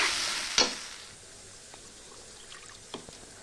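Onion and spices fry in a wok with a soft continuous sizzle. A few sharp scrapes and clanks from stirring come through, the loudest one early on, all close by and without speech.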